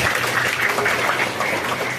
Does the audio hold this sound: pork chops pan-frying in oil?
no